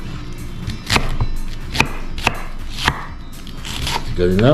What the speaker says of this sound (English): you don't really have to chop as long as it's thinly chopped for sauteing